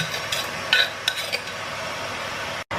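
Soft scraping stir of Thai Isan curry paste being worked into a pot of boiling water, with a few light utensil clinks near the start and a steady faint bubbling hiss underneath, no voices.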